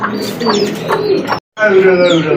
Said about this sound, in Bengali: লক্ষা কবুতর হাতে নিয়ে ধরে আছে